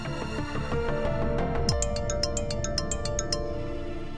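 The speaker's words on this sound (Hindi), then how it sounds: "अरे फोन बजने की आवाज कहाँ से आ रही है?" A phone ringtone plays, a melodic electronic tune with a run of bright repeated chimes toward the end, loud and close.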